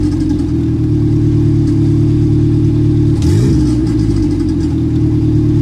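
A car engine on a Speeduino-tuned setup idles steadily, with one quick throttle stab lifting the revs for a moment near the middle before settling back to a loud, continuous idle.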